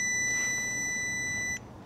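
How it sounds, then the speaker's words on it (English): A multimeter in continuity test mode gives one steady, high-pitched electronic beep, loud and close, holding for about a second and a half before cutting off abruptly. "Here's my Lady Ada tip for using continuity mode in a multimeter."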